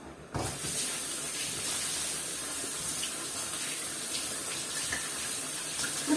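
A kitchen tap runs steadily while fruit is washed under it, a loud, continuous splashing stream that starts abruptly and carries on without talk.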